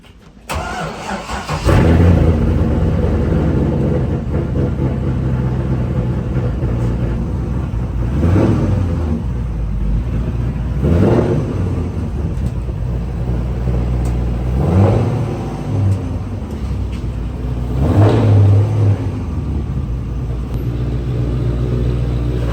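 A car engine runs steadily at low revs as the car is driven out toward a wash bay, with a deep continuous rumble and several brief swells as the throttle is blipped, loud and close throughout.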